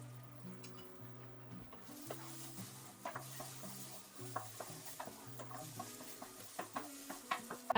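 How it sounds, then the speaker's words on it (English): Eggs stir-fried in a pan for crystal dumpling filling, with repeated scraping stirs and a steady sizzle close up, over soft background music. "Stir-fry the eggs and cool them"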